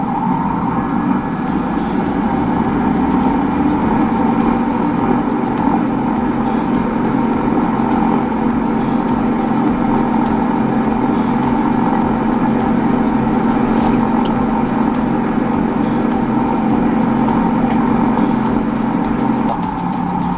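Cessna 172 engine in a flight simulator running steadily at taxi power, a continuous droning hum with a low rumble that holds evenly throughout, loud and unbroken with no talk.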